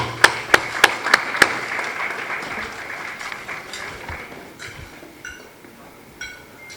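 Audience applause at a building-industry awards night, opening with several sharp, evenly spaced claps up close before settling into softer, thinning clapping from the crowd.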